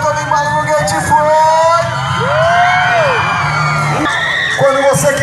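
Spectators at an outdoor BMX stunt show in Imperatriz, Maranhão whoop, yell and cheer loudly and continuously as a crowd, with an announcer's voice mixed in.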